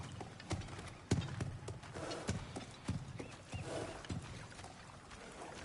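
Hooves of a kelpie, a water horse, clip-clop steadily in the God of War Ragnarok video game, close and moderately loud, with soft splashy movement between the beats.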